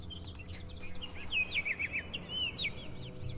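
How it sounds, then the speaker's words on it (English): Birds chirp in the video game Black Book, with a clear run of quick, bright tweets rising over a quiet, steady background hum. "I like the birds chirping."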